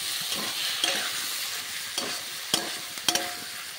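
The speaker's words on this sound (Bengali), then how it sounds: "এ ভালো করে নাড়তে থাকবো।" Spices with potato and papaya sizzle steadily in a pan as a spoon stirs, with a few sharp scrapes and taps against the metal.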